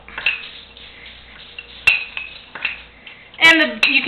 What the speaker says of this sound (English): And now you can just stir that all up.